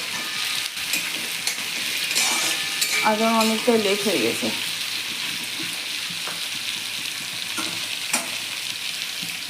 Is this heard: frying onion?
yes